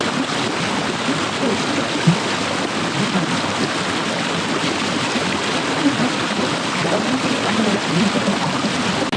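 Clear river water flows steadily and close by, a dense continuous rush and babble that runs unbroken throughout with no voices over it.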